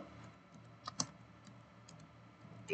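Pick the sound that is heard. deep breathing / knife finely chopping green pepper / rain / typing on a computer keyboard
typing on a computer keyboard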